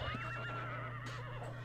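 A horse neighs in the video game Ultima Online: a single whinny with a wavering pitch, heard close over a steady low background hum.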